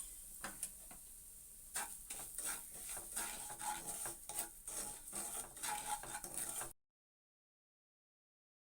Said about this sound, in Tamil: அதையும் இந்த நெய்யில் போட்டு வறுத்துக்கலாம்.